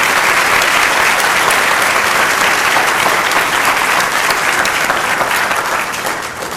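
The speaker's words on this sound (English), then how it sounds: "I would like to have you again give a round of applause to our 4 judges here in front" An audience at a 2010 Dubois quasquicentennial queen pageant gives a sustained round of applause for the four judges, dense and even throughout before easing slightly at the end.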